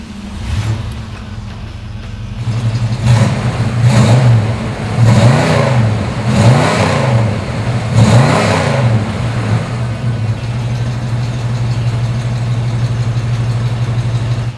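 A 1970 Ford Torino GT convertible's V8 engine cranks and fires up, then revs several times in deep rising-and-falling swells before settling into a steady, rumbling idle.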